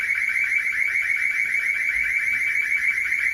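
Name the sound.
town hall panic button alarm going off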